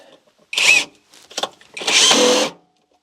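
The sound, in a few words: power drill driving a screw into a wall stud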